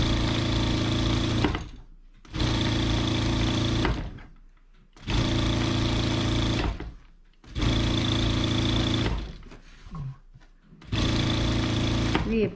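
A sewing machine stitches the folded edges of an apron in five bursts of steady rapid whirring, each lasting a couple of seconds and separated by short pauses, close and clear with no talk.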